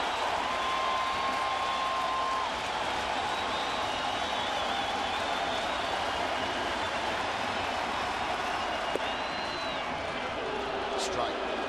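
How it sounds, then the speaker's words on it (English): Baseball stadium crowd at a Red Sox–Yankees game rising to its feet, a steady roar of cheering and applause filling the ballpark throughout, with broadcast commentary faintly present. "And the crowd coming to its feet."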